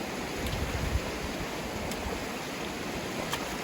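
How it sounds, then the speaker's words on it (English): A mountain stream in the Canadian Rockies rushes steadily, a broad continuous wash of water with a few faint splashes, close and even throughout, with no voices. "Splashing"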